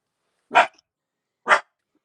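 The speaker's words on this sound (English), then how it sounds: "Don't mind my dog." A single dog gives two sharp, separate barks about a second apart, close and clear against silence.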